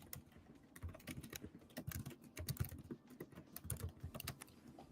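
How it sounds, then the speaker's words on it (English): Fast, continuous tapping on a computer keyboard while entering Python code, close-miked clicks in quick bursts over several seconds, no talking. "And so what we'll do is we type from sklearn.datasets."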